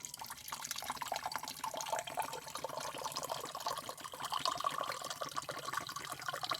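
Tender coconut water trickles and drips into a glass in a village kitchen, a soft, continuous liquid patter with scattered droplet splashes throughout.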